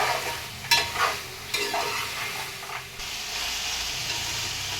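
Mutton fry being stirred in a pan, a low sizzle with a few scraping strokes of the spoon early on before the hiss settles into a steady simmer.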